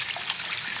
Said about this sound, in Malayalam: ആവശ്യത്തിന് നമുക്ക് പുളിവെള്ളം ഒഴിക്കാം.